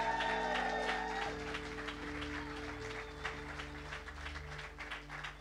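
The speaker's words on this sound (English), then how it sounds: "One more clap for them." Church congregation clapping during an evening worship session, a steady mass of applause under sustained organ or keyboard chords that continue throughout.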